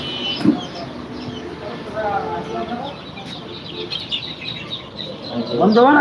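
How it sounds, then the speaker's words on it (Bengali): Broiler chickens at a poultry shop cluck and chirp now and then in the background, while someone talks over them through most of the stretch. "ব্রয়লার আছে কিছু ডেলিভারি যাবে কিছু"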